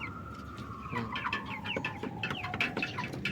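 Crossbred Asil and native chickens cluck and call repeatedly in a close, busy flock, with a steady, slightly falling high tone running underneath, and no one speaks.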